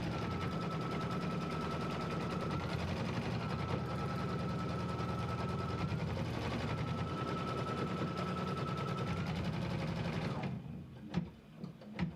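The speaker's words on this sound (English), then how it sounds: "now it's going to stitch the star placement line" Embroidery sewing machine stitching a star placement line with white thread, a fast steady rattling hum with a constant whine that runs for about ten seconds, then stops, leaving a few faint clicks.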